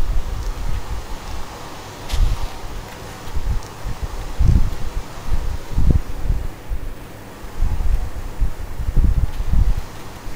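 Strong tornado wind in a Minecraft survival game, a loud, rushing, gusting roar with low rumbling surges that rise and fall throughout.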